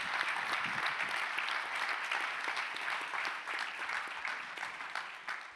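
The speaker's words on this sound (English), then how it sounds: "please help me give our panel a big round of applause" An audience at a fintech industry panel claps for the panelists, a dense, sustained applause of many hands held at an even level before slowly easing off.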